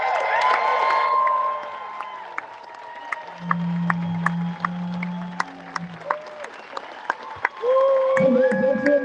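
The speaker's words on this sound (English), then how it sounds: "So everybody stand up and clap your hands for our guest of honor, Mr. Beto Hill." A town hall crowd in Denton claps and cheers for a guest of honor, with scattered sharp claps, whoops and shouts mixed with a loud voice over a public address system and lingering room noise.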